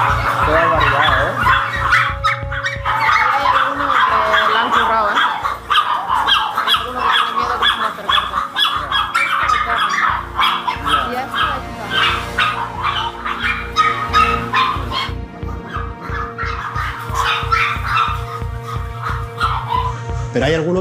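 Many dogs barking, yipping and whimpering at an illegal dog breeding operation raided by police, a loud, dense and continuous chorus with a steady rhythmic thumping underneath and people talking throughout.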